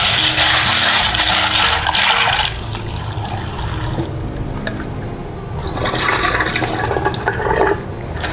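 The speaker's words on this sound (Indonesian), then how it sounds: "Kita beri air sedikit sambil direndam kerupuknya." Water is poured over crackers (kerupuk) soaking in a bowl while making cireng, a loud steady splashing pour that eases off midway and then builds again.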